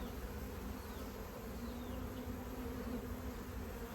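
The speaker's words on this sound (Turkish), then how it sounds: "yine arı var yani" Honeybees hum in a dense, steady drone at a cardboard swarm trap hive where a swarm has settled, a close, continuous buzzing with no talk.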